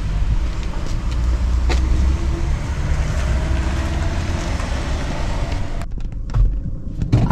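Cars drive over a badly potholed road, giving a steady, close engine and tyre rumble with a few bumps and knocks near the end as the noise briefly drops.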